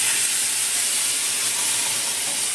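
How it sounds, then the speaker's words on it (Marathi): Heated water poured into a hot pan of drumstick curry with peanuts sends up a loud, continuous steam hiss that fills the whole moment, close and unbroken. "आता आपण याच्यात गरम केलेलं पाणी"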